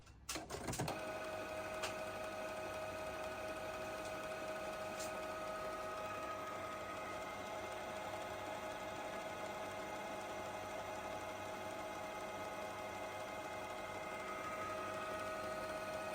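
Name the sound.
Canon G3010 printer running print head cleaning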